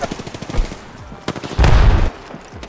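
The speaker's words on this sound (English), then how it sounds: "I'm getting shot in the back from fucking height, too." Rapid automatic gunfire in Apex Legends, sharp repeated shots in bursts with a dense, loud stretch of fire near the middle, heard alongside players' voice chat.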